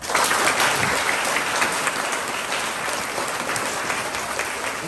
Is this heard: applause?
yes